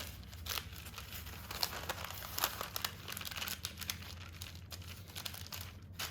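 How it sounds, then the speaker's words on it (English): Rectangular baking paper being folded in half and in half again crinkles and crackles close up, a busy stream of dry rustles and small snaps with no talking. "I've got a rectangular piece of baking paper. I'm going to fold it in half and half again."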